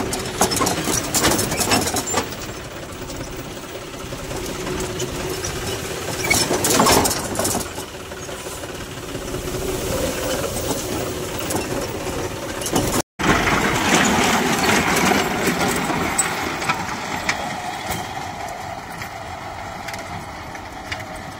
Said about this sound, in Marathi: चला आपण रोटर हाणायला चालू.